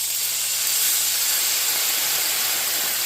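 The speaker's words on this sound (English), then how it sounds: "This is just gonna be deglazing the pan" Wine deglazing a pan over softened shallots, reducing with a steady, close hiss and sizzle of steam that holds evenly throughout, with no talking.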